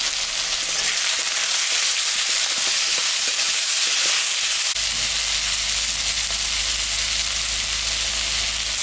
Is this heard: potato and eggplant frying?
yes